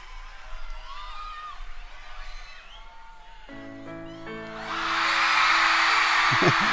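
A crowd at a live concert roars and cheers, swelling loudly in the last seconds over a sustained piano-like tone, after a quieter stretch with a voice and faint background crowd noise.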